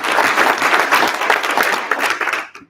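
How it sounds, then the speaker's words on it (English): An audience at a writers' award ceremony claps in a dense, steady burst of applause that fades out quickly at the end. "everyone deserves applause for submitting to the award"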